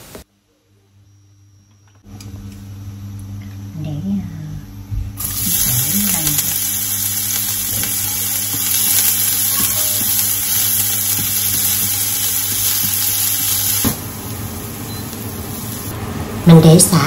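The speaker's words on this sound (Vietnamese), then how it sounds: "Sau đó mình phi hành tỏi." Shallots and garlic frying in oil in a pan, a steady close sizzle running for most of the stretch with a brief quieter start and a small clatter near the end.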